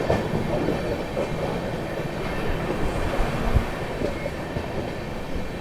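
Sealdah New Delhi Rajdhani Express running at speed through Govindpuri, a loud continuous rumble with rhythmic clickety-clack of wheels over rail joints, heard close from on board.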